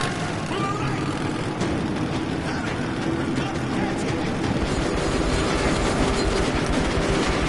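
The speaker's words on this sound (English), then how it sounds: "That's a train!" A train in the video game Metro: Last Light Redux rumbles steadily past with a continuous low roar and metallic rattling, filling the whole stretch at constant loudness.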